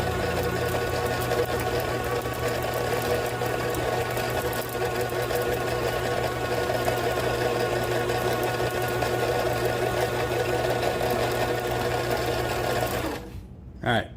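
A line spooling machine winds 100 lb hollow core braided line onto a Hxw Raptor fishing reel, giving a steady, loud mechanical whir with constant hum that runs unbroken for about thirteen seconds before stopping abruptly.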